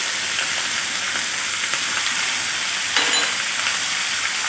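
Ginger sizzling steadily in a hot pan of tawa gosht, a continuous bright frying hiss with faint stirring scrapes and no talking.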